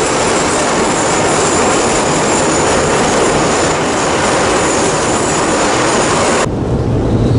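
Steady loud rumble of a Tbilisi metro train riding along the rails, a continuous roar with rattling, shifting to a quieter hum near the end.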